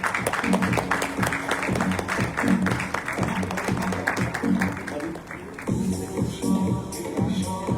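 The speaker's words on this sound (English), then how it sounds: "A round of applause for them." Audience applause at a Rotary club installation ceremony as honorees are escorted to the dais, steady mid-level clapping with some crowd shuffling and voices in the room.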